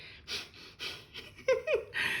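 Several short, breathy snuffles and quick nasal sniffs close by, coming in uneven bursts with brief pauses between them.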